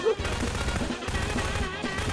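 Rapid gunfire in a first-person prop hunt video game rattles steadily throughout, dense and continuous, with a voice speaking faintly underneath.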